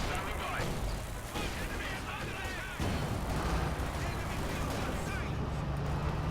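Combat in Company of Heroes 2 with an infantry support gun and gunfire: loud booming cannon blasts and scattered shots over a dense rumble of battle, under continuous commentary.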